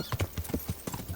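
Horse hooves clip-clop in a quick, even rhythm in the medieval video game Kingdom Come: Deliverance, a short run of close, hollow footfalls with a faint breathy sound at the end.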